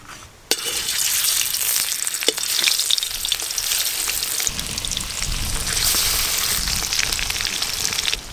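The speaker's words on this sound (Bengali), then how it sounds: "এই শাপলা পাতা মাছ একটু ভালো করে ভাজতে হয়" Stingray pieces frying in hot oil give a loud, steady, crackling sizzle that starts abruptly and continues without pause, with no voices.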